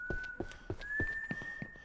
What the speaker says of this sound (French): Ok, mec, calme-toi, arrête de siffler.